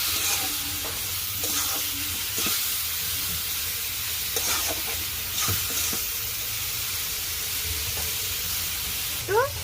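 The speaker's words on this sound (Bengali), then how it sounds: "এখন আমি একটু নাড়াচাড়া দিচ্ছি।" A spatula scrapes and stirs grated radish fry seasoned with turmeric and salt in a pan, steady sizzling under repeated stirring strokes, close and moderately loud with no voices.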